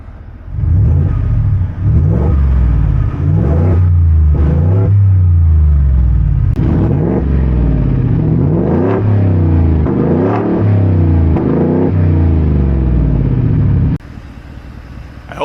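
A big supercharged truck engine revs loudly several times, the pitch climbing and falling in repeated bursts before settling into a rough idle.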